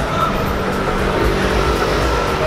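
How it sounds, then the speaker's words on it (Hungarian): Busy street traffic in Tel Aviv, a steady close drone of many car engines and tyre rumble with no break, heard without talk. "Rengeteg autó, és mindenki mindenfele megy."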